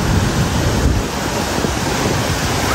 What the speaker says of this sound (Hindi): कितना शोर है पानी का है ना दी